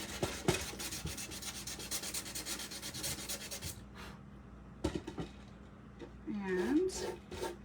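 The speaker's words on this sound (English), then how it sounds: "first let me go sand any excess off" Sandpaper scrubbing excess paint off a hand-painted wooden surface, heard as close, rapid rubbing strokes for several seconds that then stop, with a voice speaking nearby.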